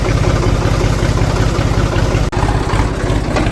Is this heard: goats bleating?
no